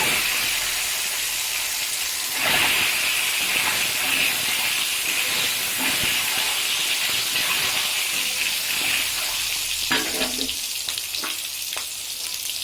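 Salt-and-turmeric-coated eggs go into hot mustard oil with a sudden rise in loud, close sizzling that holds as a constant hiss, marked by occasional spattering crackles.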